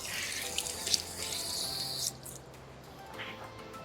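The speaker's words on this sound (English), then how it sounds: "So look, we just open the faucet." Water gushes from an open tap in La Fortuna, Costa Rica with a bright, hissing splash, loud and close, then cuts down to a softer trickle.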